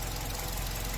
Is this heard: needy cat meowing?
no